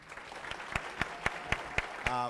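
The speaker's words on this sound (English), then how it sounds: "I want to give a round of applause to everybody who came up here to present their ideas" Sparse, evenly spaced claps ring out one after another in a quiet room after contest presenters pitch their ideas, a single pair of hands setting a slow beat before a voice begins.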